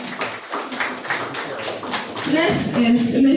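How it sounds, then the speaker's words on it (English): A room of audience members claps steadily as panelists walk up to be seated at a young African conversation forum, with voices and a microphone-carried speaker rising over the applause near the end. "until she's seated, don't stop clapping"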